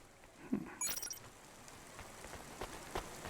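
Rain falls in the city of the video game Cloudpunk, a soft, steady patter with a few brief clicks and metallic jingles over it.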